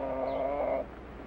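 A thin chicken gives a short, close vocal burst, a tonal clucking call that stops abruptly partway through, leaving faint room noise.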